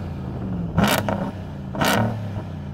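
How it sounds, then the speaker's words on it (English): A supercharged V8 car engine revs hard twice in quick succession, each blip a loud roaring burst hitting a soft limiter and dropping back to a rumbling idle. "let us hear that beautiful supercharged V8"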